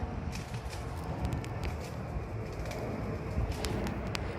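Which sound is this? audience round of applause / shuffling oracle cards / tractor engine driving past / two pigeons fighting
two pigeons fighting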